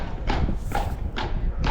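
Clydesdale horses' hooves clip-clop steadily at a horse auction, four heavy evenly spaced strikes on a hard surface, close and fairly loud over a constant background rumble.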